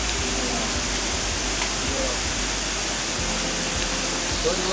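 Rushing river water pours steadily like a small waterfall, a loud, continuous broadband roar with no break, close by and heard on its own.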